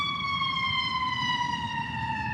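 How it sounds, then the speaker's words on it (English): A passing ambulance siren wails steadily and loudly, its tone sliding slowly downward as the vehicle moves past, with no voices over it. "There's an ambulance."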